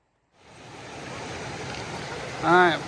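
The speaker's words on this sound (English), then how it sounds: "All right, we're about to cross the Carabasset River." Carabasset River flowing on the Appalachian Trail, a steady broadband rush of moving water heard close and continuous, with a brief louder splash or tonal burst near the end.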